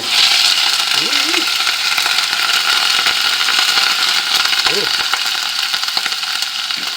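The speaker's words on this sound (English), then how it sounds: "Get a little sizzling going on here" Steady broadband sizzle of sausage frying in a hot pan, loud and continuous, with a couple of brief voice sounds near the start and later.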